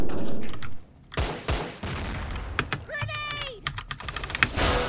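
Pistol shots in the video game Line of Sight, a few sharp cracks spread across a busy mix of game effects and voice chatter, fairly close and loud.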